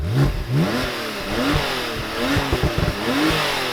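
A stock Porsche 911 Turbo S (991) engine revs hard several times in quick bursts, rising and falling in pitch, loud and close with a rough mechanical edge.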